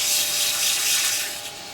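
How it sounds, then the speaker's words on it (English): Huon pine port goblet spinning on a wood lathe while sandpaper is held to it, a close, steady airy hiss of abrasive rubbing that fades slightly near the end. "I just sand a little bit further up with each of the grits"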